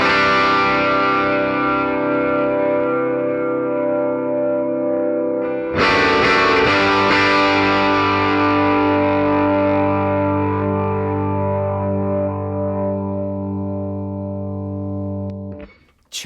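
A sustained electric guitar chord with overdrive, then a second strummed chord around the middle that rings out with delay and reverb before cutting off.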